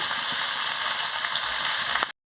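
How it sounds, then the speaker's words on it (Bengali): Onions and vegetables fry steadily in a pan, a loud continuous close-up sizzle that cuts off abruptly at the end. "এগুলো পেঁয়াজগুলো ভাজা হয়ে গেছে, এবার আমি সবজিগুলোকে দিয়ে দিচ্ছি"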